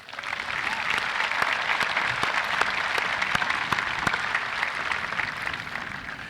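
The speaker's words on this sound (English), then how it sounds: "give Solomon, Dylan, Maya, Colin, and Kiana one more round of applause" Applause from the audience at a 2023 commencement ceremony, steady dense clapping filling the hall from start to finish with no voices over it.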